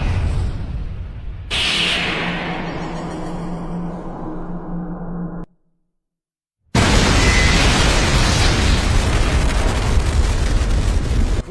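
A huge explosion from Deidara's C3 giant bomb in the Naruto anime: a loud broadband blast with a rising whoosh, then a brief silence, followed by a second sustained roaring boom of debris and rumble.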